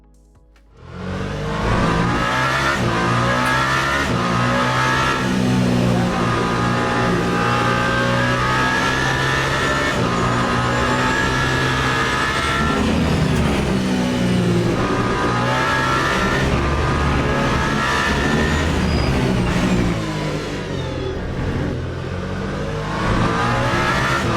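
A hypercar engine in Le Mans Ultimate, driven around the Circuit of the Americas, roars loudly and continuously as it accelerates, its pitch climbing and dropping through gear changes over about twenty seconds with no talk.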